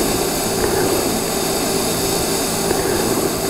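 TIG welding arc with 1/8 inch tungsten melting filler rod: a steady, close electrical buzz with an even hiss and no pauses.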